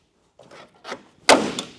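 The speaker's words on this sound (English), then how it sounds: "What I need is a little hammer to tap that socket off the fastener." A few light knocks, then one sharper, louder hit of a small hammer tapping a socket off a fastener, short and close.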